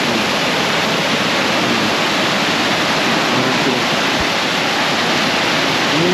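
Flowing water of a cold spring in Aklan rushes in a loud, steady, unbroken roar close by, with no voices over it.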